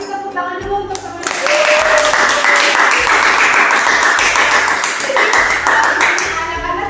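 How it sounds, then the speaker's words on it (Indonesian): Pupils in a classroom clap for their classmates after a lesson on the water cycle, a dense burst of close hand claps lasting several seconds over faint background voices. "Kasih tepuk tangan dulu untuk teman-teman."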